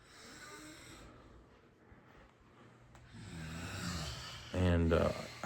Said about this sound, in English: What is it called? Snoring.